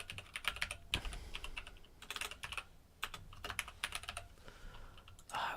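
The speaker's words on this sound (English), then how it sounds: "I wish I was better at typing with this stupid microphone here." Steady, fast typing on a computer keyboard, close and crisp, with bursts of clicky keystrokes, brief pauses and a louder key thump near the start, no voices.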